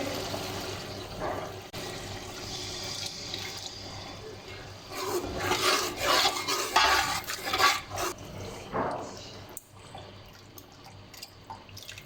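One kilogram of homemade yogurt is poured into haleem (daleem) masala and stirred, giving wet splattering, sloshing and scraping that swells to a loud middle stretch and then settles, with no talking.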